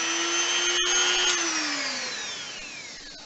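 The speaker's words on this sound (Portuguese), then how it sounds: "Então agora vamos ao segundo furo, usando a retífica, a mínima retífica." A small rotary die grinder drills a second hole through a Harley-Davidson tour-pak, a steady high-pitched whine close by that cuts out briefly, resumes, then drops in pitch as the bit bites in.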